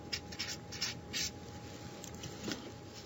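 Chalk or marker strokes on a classroom board, several short scratchy bursts spread across a few seconds, fairly faint and close, with no talking.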